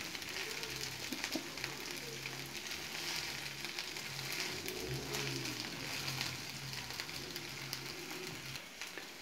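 Cheese noodles fry in a pan over a slow flame, giving a steady, close sizzle with crackling bubbles that stays even throughout, with faint background noise.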